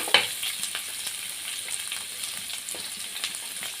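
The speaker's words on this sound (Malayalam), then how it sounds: "നമുക്ക് അതിലേക്ക് അരിഞ്ഞു വച്ചേക്കുന്ന സവാള പച്ചമുളക് എല്ലാം കൂടെ ഇട്ടൊന്ന് വഴറ്റിയെടുക്കാം" Chopped onion and green chillies sautéing in a pan, a steady close sizzle with a sharp stir-in burst at the start and soft scraping stirs scattered throughout, no talking.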